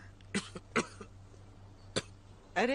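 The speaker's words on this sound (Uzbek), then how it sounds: "Nega yo'talyapsan?" Someone in a film scene coughs several times in short, separate bursts, quiet and close in a calm room, ending with a rougher, longer cough.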